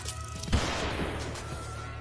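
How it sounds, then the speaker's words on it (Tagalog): A single gunshot in a film scene where a girl fires a gun held under her chin: one sharp crack, followed by a rough, noisy decay over a low background hum. "hinayla niya ang gatilyo."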